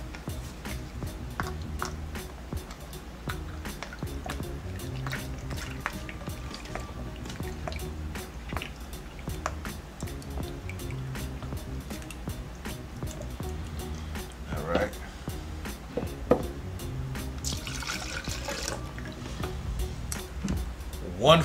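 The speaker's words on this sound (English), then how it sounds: "So what I'm going to start with is a half a cup of soy sauce." Soy sauce pours into a wet marinade mixture for jerk chicken, a steady liquid trickle with scattered drips and splashes running on and on in a busy kitchen.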